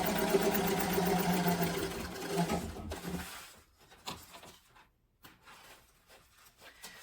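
A sewing machine stitches the lining of a sling bag in one steady run, then stops, followed by quiet handling of fabric and a few soft knocks nearby.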